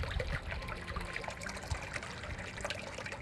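A water pump in a backyard fish pond on a front porch and yard keeps the water bubbling and splashing in a steady, continuous churn close by, with no voices present.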